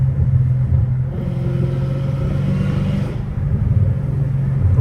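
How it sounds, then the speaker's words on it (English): A high-performance car's supercharger whines over a deep rumbling engine and exhaust, loud and close, holding steady tones with a slight dip and swell midway. "The whine is so beautiful, bro."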